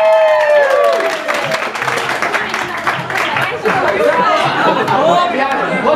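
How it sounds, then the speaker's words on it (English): Guests at a 21st birthday party clap and cheer in a lively burst of applause, mixed with loud overlapping chatter and voices that carry on through the clapping. "Big round of applause!"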